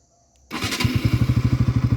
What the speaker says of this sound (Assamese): এয়া চাওক বাইকখন ষ্টাৰ্ট হৈ গ'ল।